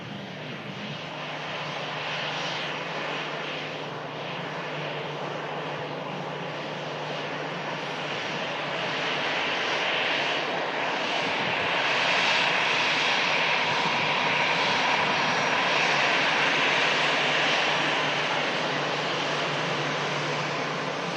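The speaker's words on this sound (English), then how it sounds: "We've also got the Jet 2 A321 Neo on the taxi out on Mr. Smith's viewpoint" A Jet2 Airbus A321neo jet airliner taxis out at an airport, its engines giving a steady, broad roar that holds at a moderate distance and swells slightly louder in the second half, with no talking.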